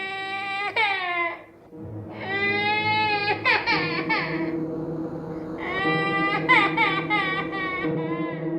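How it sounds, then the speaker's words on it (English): A small child cries in wailing bursts with short pauses between, fairly close and loud, with whimpering breaths in the gaps. "I could still hear the crying of that small child"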